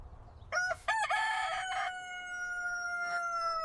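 A rooster crows loudly and close by, a drawn-out harmonic call with stuttering start, ending in a long held note.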